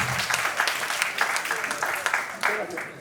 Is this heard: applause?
yes